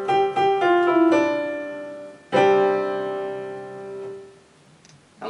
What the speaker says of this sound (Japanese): 今グランドピアノの設定になっています。